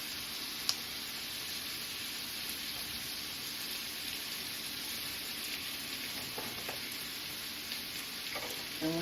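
A T-bone steak cooks in a frying pan, giving a soft, continuous sizzle and crackle with a faint tick of a utensil near the end; no one speaks.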